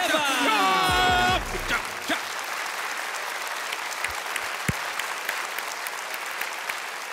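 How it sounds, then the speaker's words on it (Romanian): Loud applause erupts from a comedy show audience welcoming a special guest onstage, a dense sustained clatter after a brief announcer's voice at the start, continuing strongly throughout. "aplauze puternice pentru invitatul special de astăzi"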